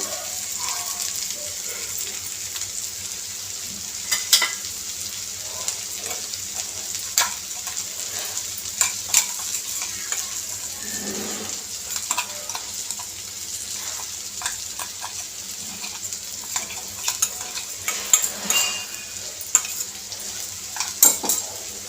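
Okra curry frying in a pan, seasoned with garlic chili powder, gives a continuous soft sizzle broken by frequent spatula scrapes and light metallic clinks against the pan, with no talking.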